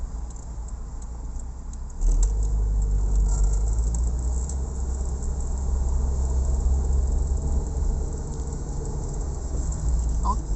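Steady engine drone heard from inside a 1993 Fiat Panda Selecta 1.1 with ECVT automatic gearbox as it turns round, growing louder after a couple of seconds and holding a constant hum with light rattles.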